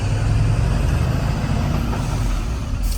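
A fully loaded truck pulls away in first gear, its diesel engine droning loud and steady with deep low rumble throughout, close by and with no voices.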